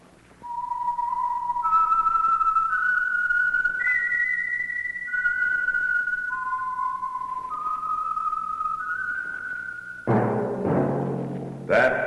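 A lone whistled melody of sustained, sliding notes, clear and fairly loud, introducing the Signal Oil Program radio show The Whistler, followed by a brief burst of orchestral music at the end.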